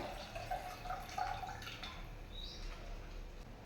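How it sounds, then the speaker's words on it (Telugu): Tamarind water for pani puri is strained at home, giving a faint, steady trickle and soft drips of liquid, quiet and close, with no voices. "చింతపండు పులుసు అయితే విసుకు పెట్టుకున్నాం కదా దాన్ని మంచిగా ఇట్లా వడగొట్టుకోవాలి"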